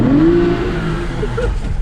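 A Formula Drift car at Texas Motor Speedway revs loudly and close by, its engine note sweeping upward and then holding a steady roar over a continuous rumble, with no talking.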